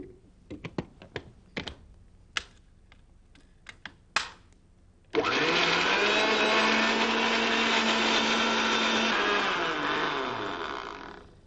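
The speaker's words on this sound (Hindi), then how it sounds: "ये जो फ्रूट्स हैं उनको आप थोड़ी क्वांटिटी के अंदर मिक्सर के अंदर डालें।" A mixer grinder blending fruits: a few scattered clicks and knocks, then the motor starts abruptly into a loud, steady whirring roar that holds for several seconds before beginning to wind down.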